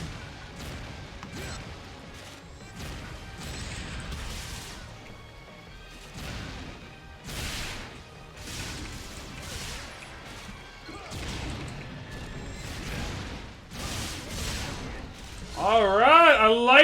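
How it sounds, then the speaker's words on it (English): Big cannon firing in Phantasy Star Online 2, a series of heavy booming shots repeated at roughly even intervals with whooshing impacts, followed by a burst of warbling energy effects at the end. "I'm going with the big cannon."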